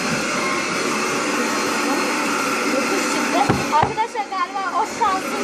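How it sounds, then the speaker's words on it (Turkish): A vacuum cleaner drones steadily in another room, a continuous whirring hum that persists under a voice speaking in the last seconds. "Anne süpürge mi çekiyor."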